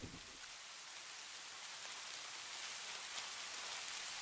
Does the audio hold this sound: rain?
yes